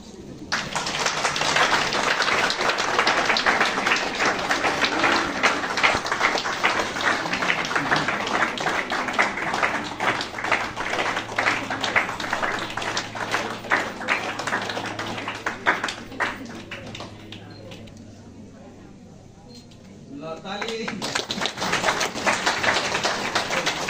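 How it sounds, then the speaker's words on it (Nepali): Sustained applause fills a church wedding, dense and steady for most of the span, briefly thinning before rising again, with voices mixed in beneath. "ताली बजाउँदै"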